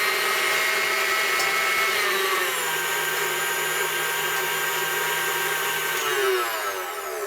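A KitchenAid Special Edition stand mixer runs steadily on its stir speed, a continuous motor whine with a mechanical hum that holds even throughout, close and alone.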